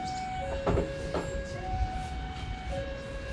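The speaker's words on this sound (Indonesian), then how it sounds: "Kereta lokal Bandung Raya tunggu disusul kereta api feeder dari Padalarang tujuan akhir Bandung." Train sounds from inside or beside the Bandung Raya local rail service: a steady hum with faint tones and intermittent clunks and rattles from the railcar, moderately quiet throughout.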